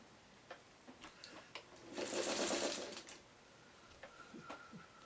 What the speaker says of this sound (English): now you put it all under the sewing machine needle